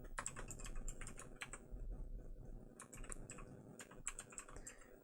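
Steady clatter of a computer keyboard, keys tapped in quick irregular bursts with brief pauses, close and fairly quiet over a low background hum.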